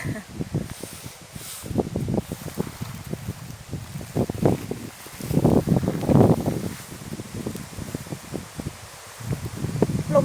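Strong wind gusts through a forest near home, where yellow mushrooms are being gathered, rustling the leaves: continuous close rustling and crackling with uneven surges, swelling strongest near the middle, with microphone buffeting throughout.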